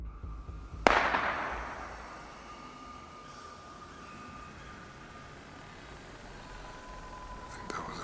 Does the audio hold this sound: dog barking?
no